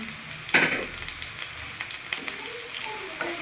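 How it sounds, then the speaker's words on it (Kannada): Curry leaves and green chillies hit hot oil with a sharp burst of sizzle, then settle into a steady frying hiss with small pops and stirring, close and alone. "ಅದ್ರಾಗೆ ಒಂದು ಸ್ವಲ್ಪ ಕರಿಬೇವು ಸೊಪ್ಪು ಹಾಕ್ತಾಯಿದ್ದೀನಿ."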